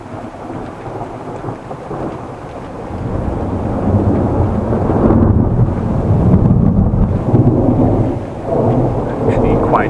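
Heavy rain with loud rolling thunder during a storm in Groningen, a steady downpour hiss with deep rumbles building and swelling through the middle and late part, fairly close and loud, with some wind buffeting on the microphone.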